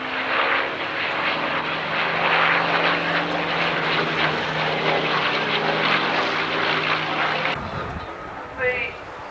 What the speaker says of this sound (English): The Messerschmitt 109 desperately trying to escape the fire from the two 20mm cannons